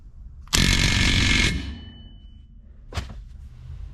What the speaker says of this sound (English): Let me hit this nut one time for good measure.